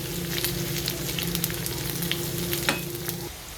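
Garlic sizzles steadily in a hot pan with a spoon stirring through it, a dense close crackle with occasional scraping and a faint hum beneath.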